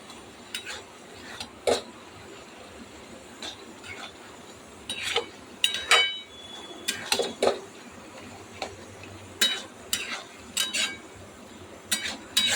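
Poppy seed paste and greens are stirred in a metal pan, with a utensil scraping and clinking against the pan in irregular close taps over a low background hum, and no talking.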